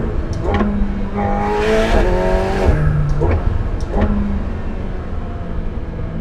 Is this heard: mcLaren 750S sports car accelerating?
yes